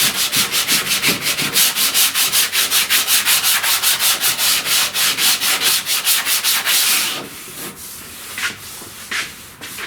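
80-grit sandpaper rubs over raw body filler on a door panel corner of a 1969 Chevrolet C10, a fast, even back-and-forth scratching rhythm, loud and close, slowing into a few irregular strokes at the end.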